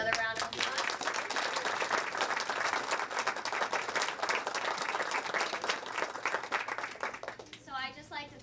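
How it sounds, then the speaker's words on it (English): Sustained audience applause for a group of scene studies students after a performance, dense steady clapping from a full room lasting several seconds before tapering off, followed by a voice starting to speak at the end. "Give them another round of applause."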